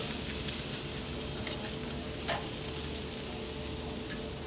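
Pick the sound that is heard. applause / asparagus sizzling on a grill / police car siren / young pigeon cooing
asparagus sizzling on a grill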